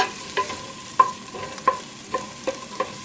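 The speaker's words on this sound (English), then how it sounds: "I use butter and onion. I saute this one," Butter and onion sauteing in a pan over medium-high heat for a Polish bigos hunter's stew, a steady soft sizzle broken by periodic scraping stirs roughly every half second to second, close and clear with no talking.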